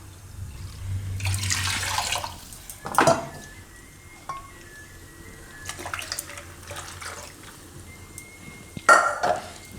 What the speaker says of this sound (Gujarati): તો 2 કપ પાણી બીજું નાખશું આપણે આમાં.